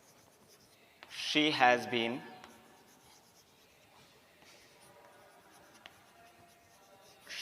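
A pen scratches and rubs across paper as an example sentence is written, a brief burst of strokes near the start followed by quieter scribbling, with a voice speaking faintly.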